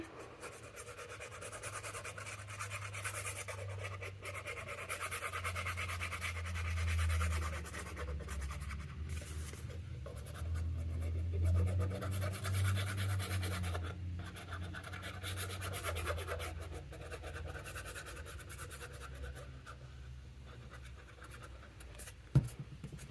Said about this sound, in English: I'm going to burnish those down. Make sure we get really good adhesion.